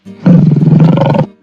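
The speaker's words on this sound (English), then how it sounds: "lion" A lion gives one loud, close roar that swells quickly and holds as a deep, pulsing, throaty growl for about a second before cutting off.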